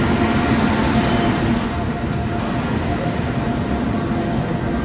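Train noise at a Konkan railway station, a steady loud rumble with faint clatter that runs without break throughout.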